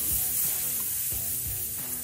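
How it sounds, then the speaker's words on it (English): Steady hissing spray of water into a hot ugly drum smoker, with a faint steamy sizzle, continuous and close throughout, no voices. "When I spray this in there, we're gonna start getting some steam."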